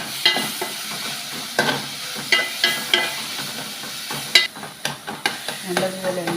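Slit green chillies are stirred into a frying pan for a chickpea curry, giving a soft sizzle under a series of sharp spoon scrapes and clinks against the pan, close and intermittent.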